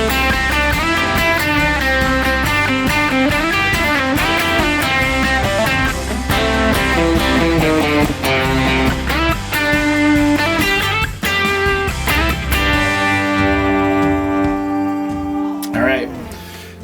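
Electric guitar solo on a Telecaster-style guitar through an amp, played as a tutorial: sustained bent notes and quick melodic runs over a loud, steady tone, fading out near the end.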